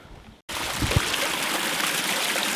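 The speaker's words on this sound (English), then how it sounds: "I stepped down by that water flowing to try to get a nice close-up of it" Water flows in a small stream beside a woodland path, with a steady, close rushing and babbling that begins suddenly and continues evenly, plus a couple of brief soft thumps early on.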